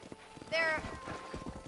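Horse hooves clip-clop at a steady pace in the Western video game Red Dead Redemption, with a brief whinny and talk mixed in over the hoofbeats.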